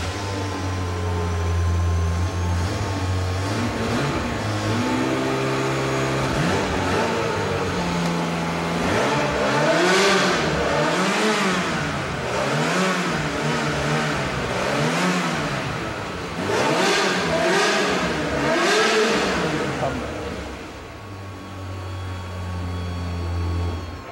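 A sports car engine fires up and revs repeatedly, rising and falling in several loud sweeping bursts before settling back to a throaty idle, heard close with no talking.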